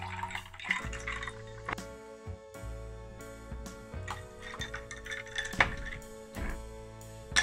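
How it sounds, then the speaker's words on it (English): Milk pours over ice cubes in a glass for Dalgona coffee, with soft liquid trickles and clinks and thunks from the ice against the glass, heard close and quiet. "Now, some milk."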